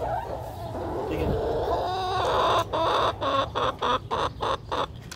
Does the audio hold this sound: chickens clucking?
yes